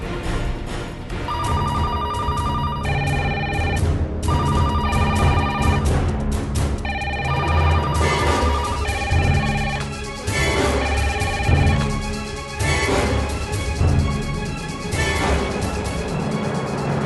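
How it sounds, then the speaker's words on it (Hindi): Telephones ring in an office, several bells trilling in overlapping bursts, loud and continuous throughout with no pause between calls. "तैयार हो जाओ, फोन की घंटियां बजनी अभी शुरू हो जाएगी।"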